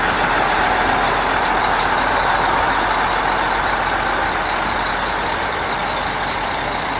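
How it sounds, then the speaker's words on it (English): Mack dump trucks, led by a Mack P81 ten-wheeler, roll into a truck show at a sand and gravel company, with a loud, continuous diesel engine rumble throughout and no speech. "Now I'm watching several Mack trucks come in."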